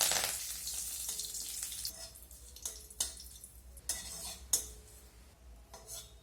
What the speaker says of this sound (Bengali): এখন ওই তেলের মধ্যে বেশ কয়েকটা কারি পাতা ভেজে নেব।